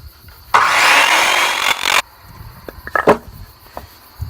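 A hand saw cuts the end off a big timber-frame board fresh from the band mill, a loud rasping burst of about one and a half seconds, followed by a few knocks and light handling noises.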